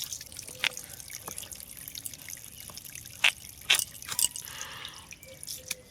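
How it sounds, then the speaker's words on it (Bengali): Cut pieces of green jackfruit drop into a vessel of water with small plops and drips, a few sharp splashes scattered over a quiet background. "কেটে এঁচড়টাকে কেটে সঙ্গে সঙ্গে জলে দিয়ে দিচ্ছি"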